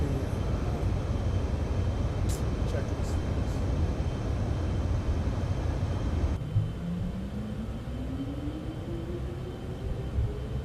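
Steady broadband cabin roar inside an airplane in Microsoft Flight Simulator 2024, loud and constant, then dropping to a quieter hum about two-thirds through as a rising whine climbs steadily in pitch.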